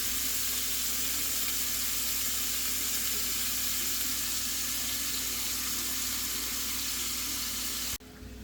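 Morel mushrooms dry sautéing in a pan hiss and sizzle steadily as their moisture cooks off, a continuous bright crackling texture that cuts off abruptly near the end.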